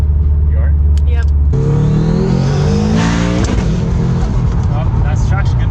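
A tuned Subaru STI engine revs hard and accelerates, loud and close from inside the car, its pitch climbing through the gears under people talking.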